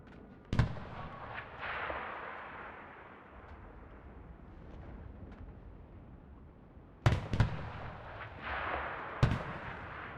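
Tanks firing in the WWII shooter Enlisted, with a Panther among them: three booming cannon shots spaced seconds apart, each a sharp blast trailing into low rumble over steady battlefield noise.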